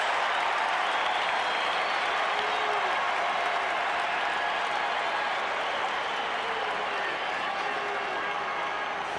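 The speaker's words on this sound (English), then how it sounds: "Makes the catch. And the crowd erupts." A baseball stadium crowd roars and applauds after a foul-ground catch during the 1986 NLCS Game 6, a dense, sustained wall of cheering and clapping with faint voices in the mix.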